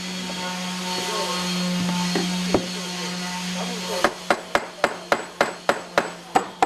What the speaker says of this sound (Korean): 나무 망치로 두들기며 한 번 더 손을 본다